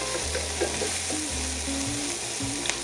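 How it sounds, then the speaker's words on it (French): Garnish for a chicken fricassee in red wine sizzling as it fries in a pan, a steady close crackle with occasional stirring knocks and a low tonal hum underneath, no speech. "la garniture, je vais la griller un petit peu"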